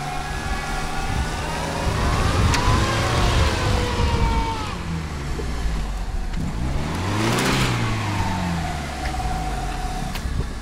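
A car engine revs hard while towing a Lada Niva out of mud, its pitch swelling and falling in long strained sweeps, loud and close, with a passing siren-like whine mixed in.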